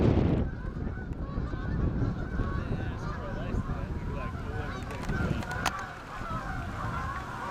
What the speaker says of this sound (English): What a migratory bird influx.